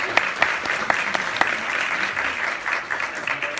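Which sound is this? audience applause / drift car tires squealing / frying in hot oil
audience applause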